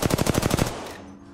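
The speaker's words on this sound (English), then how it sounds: "Shots fired at me." Gunfire aimed at the player in Apex Legends: a rapid automatic burst of about eight evenly spaced shots, loud and close, then a short fading tail.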